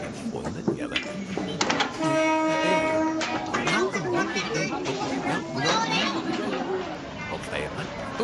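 A train rolls through a crowded street market where vendors have pulled back their awnings and goods, its horn sounding in steady sustained tones over loud rumble and a constant babble of many voices nearby.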